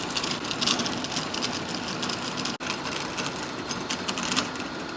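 A lathe turns a crooked wagon wheel hub, giving a steady loud mechanical whir with a rattly grinding texture and a brief dropout midway.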